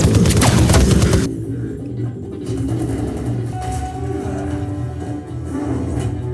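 Staccato gunfire bursts in a film action sequence, loud and dense at the start and then dropping into a sustained rumble of scattered shots and effects.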